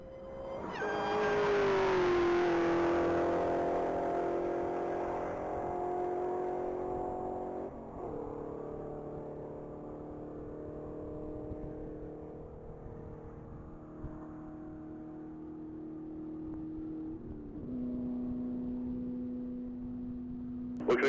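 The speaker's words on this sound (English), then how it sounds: "That's going to be a silver 2003 Ford Mustang SVT Cobra." A silver 2003 Ford Mustang SVT Cobra makes a top-speed run at a mile-long racing event, its engine roaring loud and close at first, then holding a steady, high drone that slowly fades as it pulls away.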